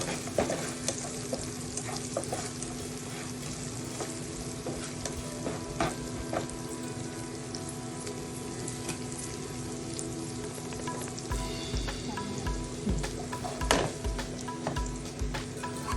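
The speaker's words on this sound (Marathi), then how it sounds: "ओली मिरची घालायची ती पण परतून यायची" Green chillies sauté in hot oil in a pan for a soya curry, making a continuous close, even sizzle with occasional light stirring scrapes throughout and no speech.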